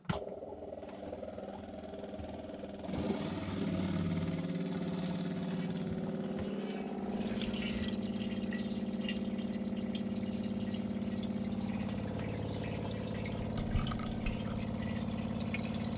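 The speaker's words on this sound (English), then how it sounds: "Pump." Water pump in a Talbot Express campervan kicks in after a few quiet seconds and then runs as a steady droning hum with a faint whine, continuing close by and unbroken, alongside some dripping and trickling water.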